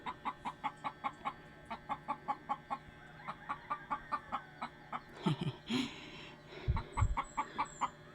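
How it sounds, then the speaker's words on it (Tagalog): Short rhythmic clucks from a black chicken with a bare, featherless neck, a steady run of near, repeated calls with a brief scuffle of louder noise midway before the clucking resumes. "Yun, mayroon pong manok na itim oh."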